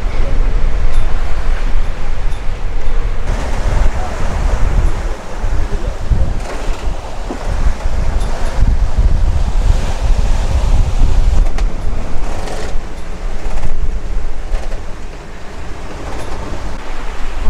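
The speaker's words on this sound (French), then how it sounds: "Oh là, les vagues qu'il y a." Ocean waves and strong wind roar steadily around a heeled-over sailboat on a rough crossing from St. Lucia to Martinique, with loud broadband surf surges and gusts, faint voices underneath.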